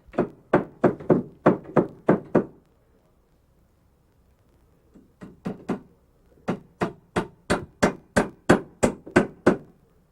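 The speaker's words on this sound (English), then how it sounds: "We also nail 2x4s between the nailers, as we did on the other side, to firm up the edges of our paneling sheets." Nails are driven into 2x4s set between nailers on a three-season porch wall, heard as two runs of loud, evenly spaced hammer blows, each run building to full force with a pause between, and no talk.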